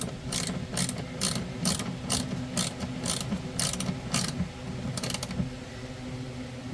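Ratchet wrench clicking in steady bursts while tightening the hold-down on a Lithionics 320Ah lithium battery in a Leisure Travel Vans Unity RV, close and loud with sharp repeated pawl clicks, no talking.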